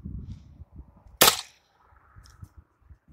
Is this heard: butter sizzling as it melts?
no